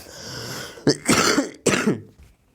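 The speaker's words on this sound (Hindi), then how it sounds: "सर्दी हुई है तो थोड़ा खांसी हो जाता है" A few harsh coughs from a cold and throat-clearing bursts, close and fairly loud, bunched together after a short quiet stretch, with no talking.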